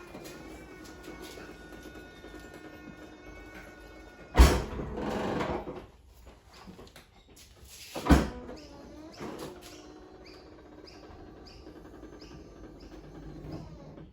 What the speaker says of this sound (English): to test the operation of the rear door